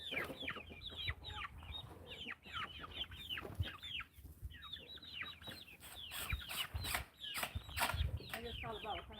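Hens and roosters on a farm cluck and call in a busy, overlapping stream of short squawks, close and fairly loud, with occasional bursts rising above the rest throughout.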